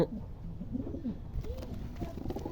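Pigeons cooing inside a home loft, soft repeated throaty coos at close range over a quiet background with faint rustling.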